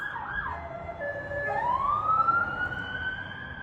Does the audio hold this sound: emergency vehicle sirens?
yes